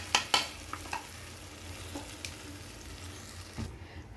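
Batter poured into a hot pan starts frying with a soft, continuous sizzle, interrupted early on by a few sharp clinks and scrapes of a utensil against the pan.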